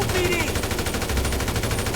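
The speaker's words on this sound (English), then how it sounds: "the vanilla weapon sounds in GTA 5 aren't terrible" Rapid automatic gunfire from weapons in the GTA 5 video game, a fast, even string of loud shots filling the whole moment.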